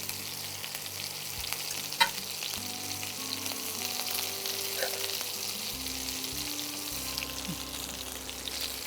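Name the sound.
chicken pieces frying in a pan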